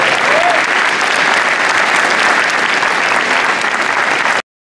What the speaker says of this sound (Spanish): me gustaría pedir un aplauso para toda la comunidad educativa del Instituto Superior de Formación